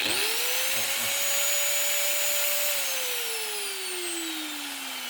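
A Makita M9510B angle grinder spins up with a rising whine and then runs steadily at speed, its pitch sagging slightly near the end, loud and close with no voices.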